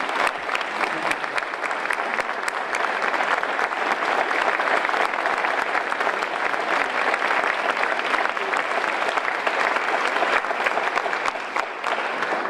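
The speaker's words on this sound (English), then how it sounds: "I think a round of applause for them." Sustained applause from a large crowd, steady and loud throughout, with no break in the clapping.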